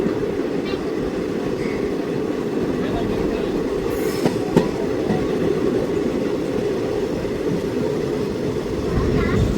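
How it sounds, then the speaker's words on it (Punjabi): A Ludhiana–Churu passenger train rumbles steadily along the rails while taking a curve, wheels clattering over joints with a faint squeal rising briefly, loud and continuous throughout. "ਕਿਆ ਕਰਵ ਲੈ ਰਹੀ ਆ ਆਪਣੀ ਟ੍ਰੇਨ"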